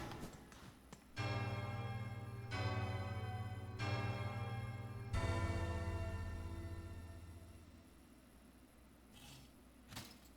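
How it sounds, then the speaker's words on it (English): A large bell in the video game Silksong rings four times in slow succession. Each deep, resonant strike hangs and overlaps the next, and the last one fades out slowly, followed by a couple of faint clicks. "This is the only bell where I think we have no choice but to sit here and hear it ring"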